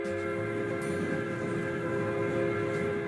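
A train approaches with a steady rumbling drone and sustained tonal hum, moderately quiet and constant throughout.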